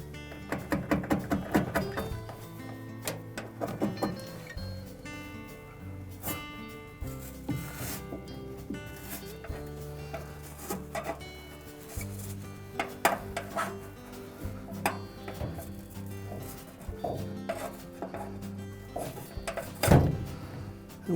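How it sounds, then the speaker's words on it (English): A putty knife scrapes old damper pads off the base of a Maytag washer, giving continuous close rasping and scraping with repeated strokes, metallic knocks and dragging sounds throughout. "using a putty knife, I'm just going to get in underneath the edge of those and scrape the old ones off"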